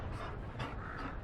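A Mabari war dog in Dragon Age: Inquisition pants in quick, close breaths, with a slight whimper, over a short stretch.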